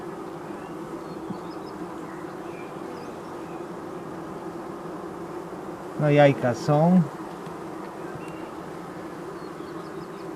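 Honey bees humming in a hive, a steady low drone throughout, with a brief spoken phrase near the middle.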